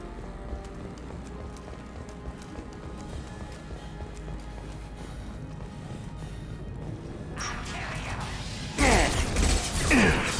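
A mechanical shutter grinds shut in Mass Effect 2, a steady rattling, clattering churn that runs throughout and swells louder near the end amid game noise.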